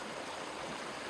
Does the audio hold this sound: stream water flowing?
yes